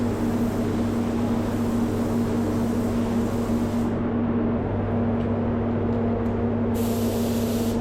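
Spray gun hissing steadily while painting Porsche 718 Boxster S front bumper parts, a continuous close, loud airy spray with a constant low compressor-like drone underneath, briefly cutting out and resuming near the end.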